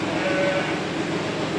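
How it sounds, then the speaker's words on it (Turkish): Sheep bleat amid a dense, noisy barn ambience on a rainy day, with a brief wavering cry standing out near the start. "Koyunlar da dışarı çıkmak istiyor, meliyor."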